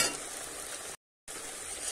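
A spice paste for matar kofta curry fries and is stirred in a pan, a dense, even sizzle heard up close that drops out briefly in the middle and then resumes unchanged, with no talking.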